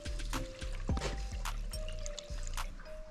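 Water circulates through a home heating radiator system with the pump running, a close gurgling trickle with uneven drips over a steady low mechanical hum.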